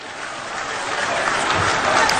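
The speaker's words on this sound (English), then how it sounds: "With a huge round of applause, ladies and gentlemen, let's welcome His Excellency John Mahama" A large crowd applauds steadily and loudly to welcome John Dramani Mahama, flag bearer of the National Democratic Congress, at his post-election acceptance speech in Ghana, forming a dense wash of clapping and cheering that grows slightly.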